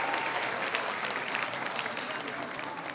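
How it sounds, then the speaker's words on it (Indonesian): Village audience at a Balinese banjar quiz event applauding, a dense, steady wash of clapping from a crowd, moderately loud and sustained for the whole stretch with a faint murmur of voices. "Boleh minta tepuk tangannya biar meriah masyarakat Desa Kukuh?"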